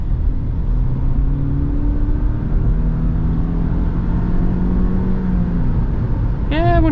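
A 2025 Subaru Forester Touring pulls up to highway speed, with a steady broadband road and engine drone and a faint rising tone under it. A short chirping sound cuts in at the very end.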